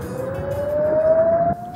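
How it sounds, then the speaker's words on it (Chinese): An air raid siren wails over a northern Israeli village during a rocket attack from Lebanon, one steady tone slowly rising in pitch, fairly loud and carrying before it cuts off. "以色列北部的村庄空袭警报大作。"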